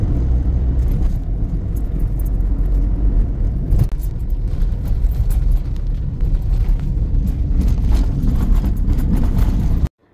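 A car driving slowly along a winding road in Konkan, a steady close engine and road rumble heard from inside the vehicle, continuous and fairly loud, then cutting off abruptly at the end.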